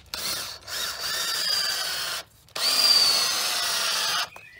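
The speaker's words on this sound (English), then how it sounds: "So put 4 screws in." A cordless power drill drives screws into an old, partly damp wooden fence post, with two sustained whirring runs separated by a short pause, close and fairly loud, and no talking.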